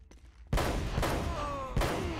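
Gunfire in the video game Uncharted: Drake's Fortune, several loud sharp shots with a ringing tail after each, firing in an uneven rhythm over a low game backdrop.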